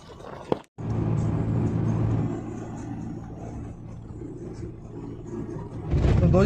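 A car interior on the road toward a village, with a steady low engine rumble and road noise throughout, a brief click and dropout near the start, then a louder surge at the end.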